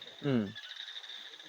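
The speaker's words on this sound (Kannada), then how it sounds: "ಇಲ್ಲಿ ನಾಲ್ಕೈದು ಪ್ರಭೇದದ ಕಪ್ಪೆಗಳು ಕೂಗ್ತಾ ಇದೆ" Frogs call at night: one short, loud croak stands out close by, while a thin, steady trill from other small frogs or insects carries on softly behind it.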